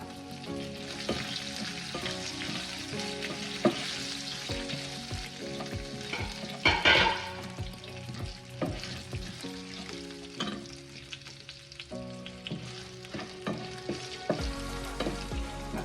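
Green chillies frying in hot oil for a Mangalore-style cucumber sambar give a steady close sizzle, with a spoon clinking and stirring in the pan throughout.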